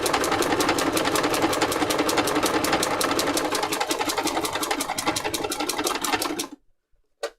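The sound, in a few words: sewing machine doing free motion embroidery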